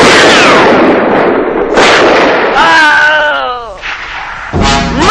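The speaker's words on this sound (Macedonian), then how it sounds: "Пак пука, дедо." Gunfire and explosive blasts boom in a 1969 war film battle scene, loud heavy bursts in quick succession with shouting voices over and between them.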